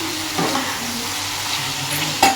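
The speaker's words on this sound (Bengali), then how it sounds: "এই যে এখন আমার মা রান্না করছে চিংড়ি মাছের মালাইকারি।" Prawn malai curry cooking in a pan while it is stirred: a close, steady sizzle with a few scraping strokes of the spoon and a sharper clink near the end.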